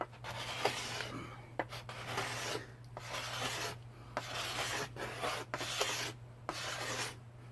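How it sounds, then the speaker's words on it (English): A wooden bow stave is scraped by hand with a blade in short rasping strokes, each a dry scratchy pass separated by brief pauses, close and fairly quiet over a low steady hum. "now I just have to put my fingers right here to scrape"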